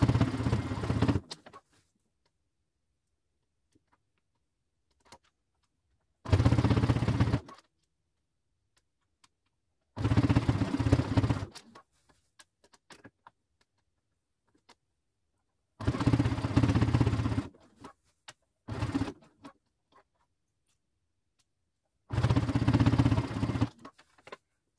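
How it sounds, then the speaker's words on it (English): A sewing machine stitches a leopard print bag in separate bursts, five or six runs of rapid mechanical chatter that each last about a second, with quiet pauses between them. Nobody speaks. "let's sew this down"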